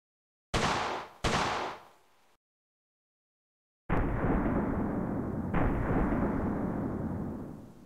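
Two sharp, loud shots from an animated SVD Dragunov sniper rifle, each with a quick decaying tail, followed by silence and then a sustained, dense rumbling roar.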